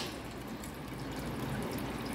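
Water boils while french fries are being prepared, giving a faint, continuous bubbling and hissing wash with no pauses.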